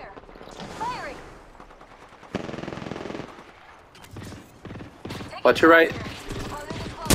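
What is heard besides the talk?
gunfire in the video game Apex Legends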